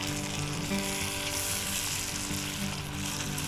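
Hash brown casserole frying in a Lodge Cook-It-All over a campfire, a steady close sizzle and crackle running throughout, with faint stirring and no voices.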